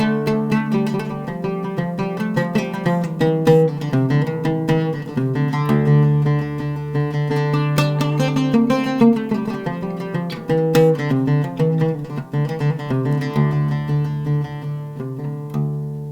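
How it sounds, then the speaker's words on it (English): Oud plucked close and clear in a flowing bayati maqam melody, quick picked notes and tremolo runs over ringing low strings, steady and unaccompanied with no talk. "So a bayati sort of maqam melody could sound something like."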